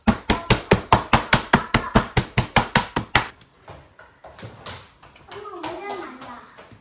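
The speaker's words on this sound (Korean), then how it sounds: "그래서 망치로 다 두드렸고" A hammer pounds pork for homemade tonkatsu in a home kitchen, a fast, even run of sharp thuds for about three seconds before stopping, followed by children's voices and quieter household noise.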